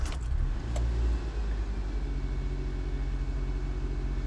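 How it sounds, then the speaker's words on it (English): A 2009 Nissan Micra 1.2 Visia petrol hatchback is started with the key; a brief cranking burst and faint key jingle give way to a steady low idle hum that continues alone, close by inside the car. "and we'll start the car up."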